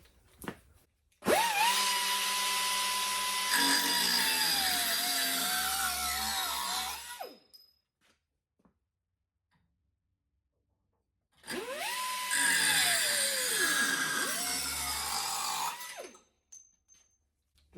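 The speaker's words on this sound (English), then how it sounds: "I'm going to clean these pipes up a little bit and cut them" A power tool whines loudly while cutting stainless steel exhaust pipes for a 1972 VW Super Beetle, two sustained bursts of several seconds each with shifting pitch, separated by a quiet pause.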